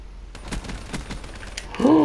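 Rapid automatic gunfire rattles in a Call of Duty: Black Ops III multiplayer match, a quick burst of shots at moderate distance, followed by a brief rising tone.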